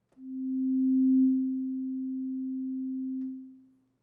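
A single pure synth tone from Ableton Operator swells in quickly, dips slightly to a steady sustain, then fades over a long release of about a second.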